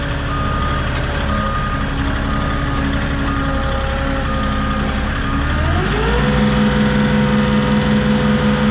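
RV stabilizer jacks lowering with a steady mechanical motor whine and drone, shifting pitch partway through as the jacks extend, accompanied by intermittent warning beeps.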